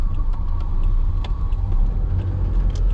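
A Toyota MR2 with a 5S-FE engine and stock 5-speed transmission runs steadily, a close, continuous low rumble with a faint ticking layer on top and no talking over it.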